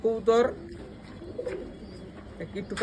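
A pigeon gives a few soft coos, with short bursts of nearby voices and faint background noise around them.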